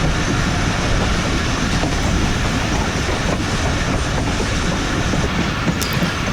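A passenger train in Pakistan running through the small Gangrila station, heard from on board as a loud, steady rumble with rhythmic wheel clatter and a faint squeal near the end, no voices.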